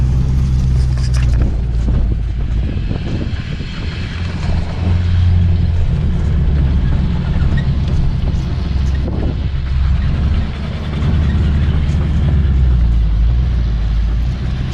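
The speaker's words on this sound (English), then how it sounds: "It's a pretty solid old tractor there." An old farm tractor engine runs loud and close throughout, a heavy continuous low rumble with no talking over it.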